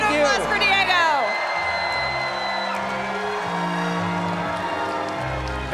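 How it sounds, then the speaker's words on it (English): Audience at a Star Wars Celebration stage show whoops and cheers loudly for about a second, then settles into a lower crowd murmur. "one more round of applause for Diego."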